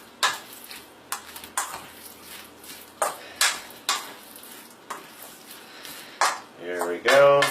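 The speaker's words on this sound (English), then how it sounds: "And all I'm going to do here is go ahead and stir this all up" A spoon stirring chicken and rice soup in a pot, a series of sharp metallic clinks and scrapes against the pot repeating at uneven intervals, fairly close, with a brief voice near the end.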